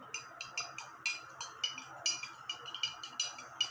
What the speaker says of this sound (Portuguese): Novamente, iremos utilizar a colher para misturar.